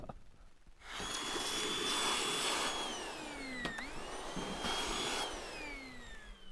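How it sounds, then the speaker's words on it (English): A Milwaukee cordless vacuum cleaner whirs steadily up close, its motor pitch dipping and rising as it sucks, running continuously with no talking. "Milwaukee cordless vac works pretty nicely."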